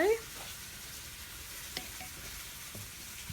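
A spoon scrapes and mounds soft, wet blue cheese risotto with pear and walnut in a pan, giving a few faint, close, soft scraping and sticky squelch sounds over a quiet steady background hiss.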